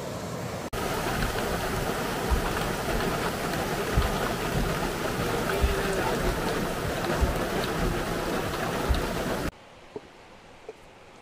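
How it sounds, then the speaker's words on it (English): Rain falls steadily outdoors on a rocky coastal cooking spot, a loud dense hiss with scattered drips and knocks that continues for several seconds before cutting off to quiet. "right now, the rain up on us."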